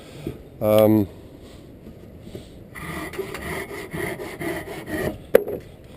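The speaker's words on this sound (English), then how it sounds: "It's much easier to saw this up when it's green, so I'm sawing this up for the right size." Rhythmic strokes of a hand saw with a new blade cutting through green hedgerow wood, steady back-and-forth rasping at close range, with a brief voiced sound near the start.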